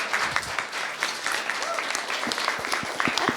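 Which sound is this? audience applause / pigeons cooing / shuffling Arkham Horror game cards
audience applause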